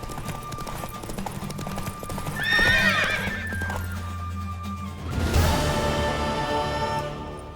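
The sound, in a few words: horse hooves and neighing in The Witcher 3 video game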